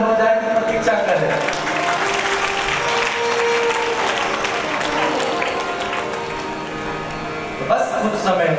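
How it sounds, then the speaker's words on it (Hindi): Loud, sustained applause rises from an audience at a Hindu religious discourse, a Bhagavat Katha in Darbhanga, filling the whole stretch before tapering slightly and swelling again at the end. "इसीलिए जो लोग इंतजार कर रहे हैं उनके लिए जोरदार ताली हो जाए"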